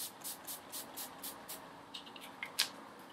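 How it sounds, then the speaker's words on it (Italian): A NYX primer and makeup setting spray bottle is pumped in a quick series of about nine short, close hissing bursts in a steady rhythm, followed by a few fainter clicks and one sharper final burst. "vado a prendere questo qua di NYX che è sia primer che spray fissante"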